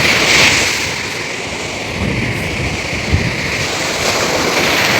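Sea waves wash steadily onto a Kerala beach in a constant broadband roar, with wind buffeting the microphone and a slight swell near the start.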